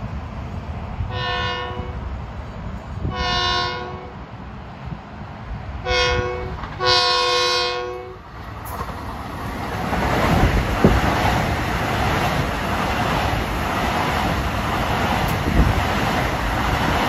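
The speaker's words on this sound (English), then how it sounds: "Approaching eastbound at 528 is train 1970, Penn Station around Ronkonkoma, with more M9s approaching the Wellwood Avenue Pinelawn Road crossing" An LIRR M9 commuter train sounds four loud horn blasts, two long, then a short and a long, as it approaches the Wellwood Avenue–Pinelawn Road crossing eastbound, followed by a steady rising rumble of the train drawing near.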